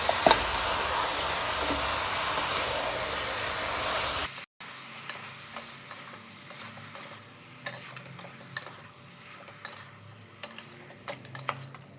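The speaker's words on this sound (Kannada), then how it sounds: "ಉಪ್ಪು ಮತ್ತು ಅರಿಶಿನ ಹಾಕಿ ಚೆನ್ನಾಗಿ ಹುರ್ಕೊಳ್ಬೇಕು ಮಟನ್ನ" Mutton pieces frying in a pan with salt and turmeric: a loud, steady hissing sizzle at first, then a quieter simmering fry broken by scattered scraping stirs and small clicks.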